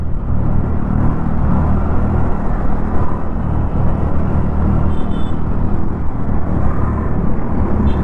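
A Hero Destini 125 scooter, 2025 model, rides along the road with a steady, loud engine and road rumble that holds from start to finish, no voices heard.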